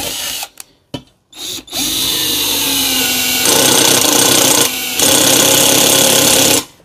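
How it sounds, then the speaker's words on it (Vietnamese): A small, compact cordless screwdriver with a slipping clutch bit drives a screw into thick steel, whining loud and steady for about five seconds after a few short bursts, with no talking. "Đây là tiếng của máy bắt vít, nó kêu rất là to."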